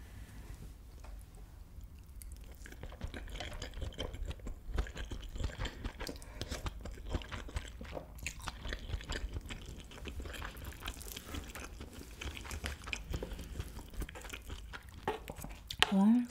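Cheese kimchi fried rice topped with a fried egg being eaten up close, with soft continuous chewing and small crunchy bites over a low room rumble, and a brief voice near the end.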